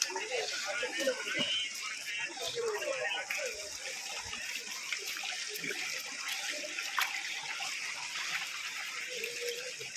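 Water flows and gurgles steadily from a spring beneath a fig tree on the Sathuragiri hill trail, with voices faintly audible in the background.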